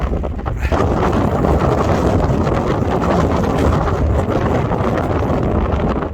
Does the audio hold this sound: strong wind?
yes